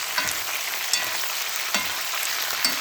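Meat and pork fat frying in a skillet, a dense, close, steady sizzle with occasional soft scraping stirs.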